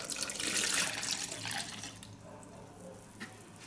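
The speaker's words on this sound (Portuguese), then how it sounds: "vou colocar a água aqui na jarra" Water from a spin dryer is poured into a jug in a steady rushing stream that tapers off, close and fairly quiet, with no talking.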